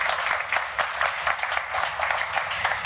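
Audience applause for musicians, a close, dense patter of many hands clapping at a steady level, with faint voices mixed in.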